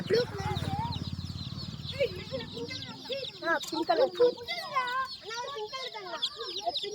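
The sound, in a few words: chicks clucking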